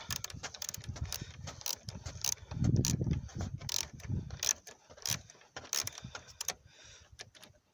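A bolt is unscrewed on the engine mount of a Renault Laguna 3 coupé 2.0 dCi. Rapid metallic ratchet clicks and tool clatter repeat close up, with duller handling knocks in between.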